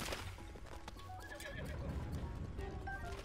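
A horse in Zelda Breath of the Wild whinnies loudly and close, with clip-clop hoofbeats running under the call and game ambience continuing throughout.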